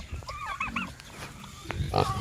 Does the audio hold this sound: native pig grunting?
yes